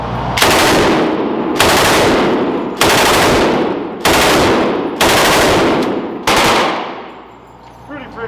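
A heavy bipod-mounted machine gun fires six long sustained bursts in quick succession, each a loud dense roar of rapid shots separated by brief gaps, with the last burst trailing off into faint outdoor ambience.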